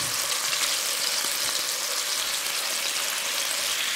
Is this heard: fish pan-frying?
yes